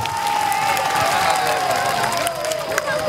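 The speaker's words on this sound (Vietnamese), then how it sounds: "Chúng ta vỗ tay mừng một ngày trại vui." A crowd at a parish summer camp claps and cheers together, a dense, continuous wash of applause with scattered voices mixed in.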